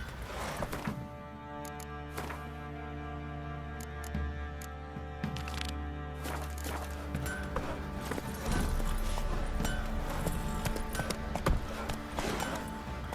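Roach, a horse in The Witcher 3, clip-clops along at a steady trot under a dense, continuous bed of game music and ambience.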